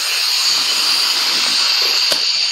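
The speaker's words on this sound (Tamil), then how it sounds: "அடுப்பு பற்ற வைக்கணும்." A cooking stove burner is lit and hisses steadily, a loud, even rush of gas noise that fills the clip, with a brief click or pop near the end.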